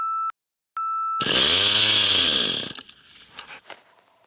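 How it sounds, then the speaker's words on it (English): A chainsaw roars loudly for about a second and a half after two short beeps, then cuts out into scattered clatter and rustling, at a winter camp at -22C. "Fighting with this chainsaw. I finally got it going."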